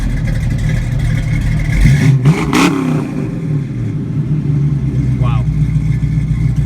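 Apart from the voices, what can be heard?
1967 Ford Mustang coupe engine starting and idling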